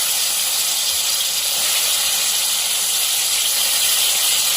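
Mushrooms dropped into a dry hot pan while cooking a wild mushroom curry give a steady, loud, broad hiss and sizzle that continues evenly throughout with no talking.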